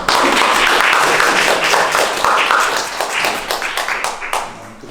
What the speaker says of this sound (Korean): 큰 박수를 맞아주시죠